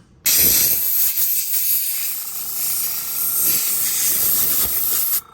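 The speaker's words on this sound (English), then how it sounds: "This compressor kicks on fast because I got it cranked up to 30 pounds." An airbrush blasts a steady hiss of compressed air to dry its cleaned nozzle chamber, with a compressor set to about 30 psi running underneath; the loud blowing starts abruptly and holds for about five seconds before cutting off.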